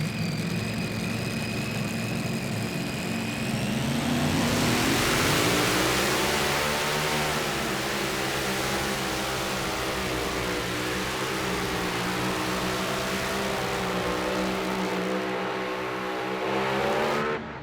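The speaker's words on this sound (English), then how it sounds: "Here comes Raymond Shepard and the tractor called Methanol Madness." The mini rod pulling tractor Methanol Madness, driven by Raymond Shepard at the Farley Nationals on the 300 Raceway in Farley, Iowa, roars loudly, climbing sharply in pitch after a rumbling start and then holding a sustained high-revving howl.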